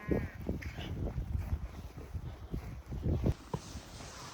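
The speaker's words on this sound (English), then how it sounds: "Sheep, sheep." Several sheep bleat on a farm, overlapping calls rising and falling over a few seconds, fairly close amid outdoor background noise.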